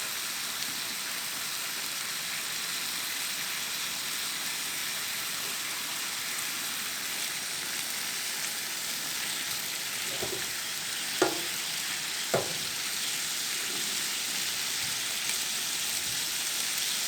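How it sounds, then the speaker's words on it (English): Sliced sausage sizzles on a camp grill in Indiana's Hoosier National Forest, a steady, even crackling hiss that carries throughout, with a few faint knocks near the end. "I've got some sausage I'm going to cut up and try on the grill"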